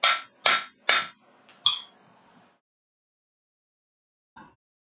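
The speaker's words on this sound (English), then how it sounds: "I've got this smaller rounding hammer." A small rounding hammer striking hot metal while forging a leaf rings out in three sharp metallic strikes in quick succession, then a softer blow, a pause, and one faint final tap.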